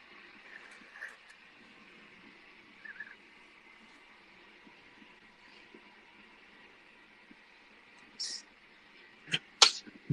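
A short, sharp sneeze bursts out near the end of an otherwise quiet stretch with faint background hum and a few soft, scattered noises before it.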